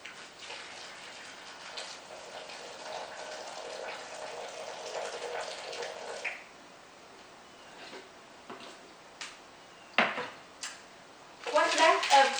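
Boiled water running and pouring into a dish for clear Jello in a home kitchen, a steady broadband rush for about six seconds, then scattered clinks of dishes and utensils.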